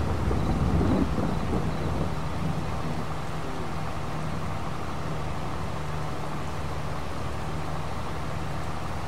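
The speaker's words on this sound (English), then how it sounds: "Rain sounds nice though." Rain falling steadily in the Farming Simulator 22 video game, a constant broad hiss with a low thunder rumble near the start, then an even wash of rainfall with a faint low hum underneath, no voices.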